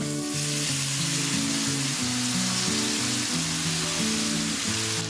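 Spice masala goes into brinjal frying in oil, giving a loud, steady close sizzle over a repeating tonal background with no talk.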